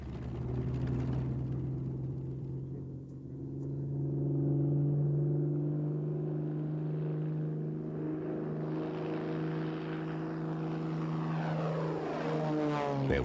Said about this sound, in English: the first 190, known as V1, taxied down Bremen's airfield to put the new theories to the test.